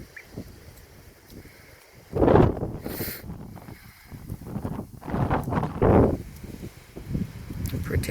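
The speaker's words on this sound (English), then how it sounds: "It's kind of cold. It's really windy here." Gusty wind buffets the microphone, rumbling in low swells that rise and fall over several seconds, with a louder blast in the middle.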